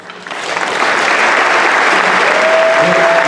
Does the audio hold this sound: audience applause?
yes